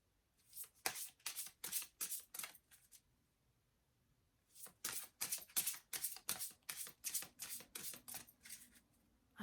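A deck of tarot cards is shuffled in quick, crisp riffling bursts, one run, a short pause, then a second longer run, quiet and close.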